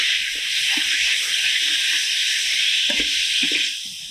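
Vegetables and sauces sizzling in a pan, a steady loud hiss throughout with faint stirring knocks underneath.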